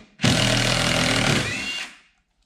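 A power tool whirs loudly and close for about two seconds, removing 10 mm and 7 mm bolts from the front door panel of a 2015 Dodge Dart, then cuts off abruptly.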